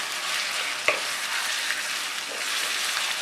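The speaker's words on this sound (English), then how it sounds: "We'll just add chicken at this stage and stir it well" Chicken sizzles loudly in a hot frying pan with golden-browned ingredients as it is stirred, a steady close frying hiss with one brief scrape of the spoon.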